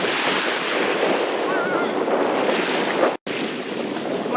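Sea waves wash steadily against a rocky shore in loud, continuous surf, with heavy wind buffeting the microphone; the sound cuts out briefly for a moment near the end.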